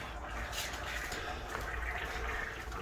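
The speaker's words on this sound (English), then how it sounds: "Dripped a little bit of water out of there." Water trickles and splashes steadily at close range from an 18-gallon overland water tank fitted with a faucet, a continuous wet spatter running evenly throughout.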